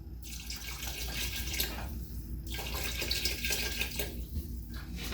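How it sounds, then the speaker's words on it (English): Apple cider pours into a soup pot of butternut squash soup, a steady close splashing stream of liquid lasting a few seconds. "We're going to add in about 2 cups of apple cider."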